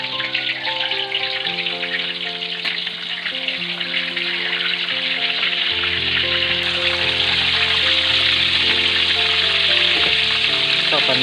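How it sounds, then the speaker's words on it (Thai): A large fish frying in hot oil in a pan, a steady loud sizzle and crackle with a faint background tone, no talking. "ปลาใน ไปทอดครับ ไปทอดแล้ว"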